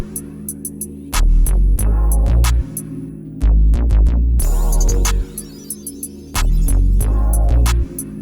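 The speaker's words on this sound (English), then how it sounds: "So that clap that you hear, it's got a little bit of reverb" A beat made in Logic Pro X and Maschine Mikro plays with a deep throbbing bass and sharp snapping drum machine claps that trail off in a short reverb tail, along with crisp ticking hi-hats.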